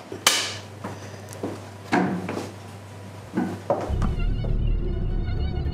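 A mosquito buzzes close by with a thin, high, steady whine that takes over in the last couple of seconds, following several sharp knocks and thumps.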